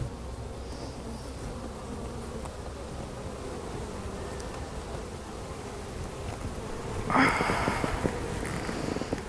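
Honey bees from a small beginner colony hum steadily and softly around an open hive during a frame inspection, a continuous low buzz with a brief louder flurry near the end and no talk.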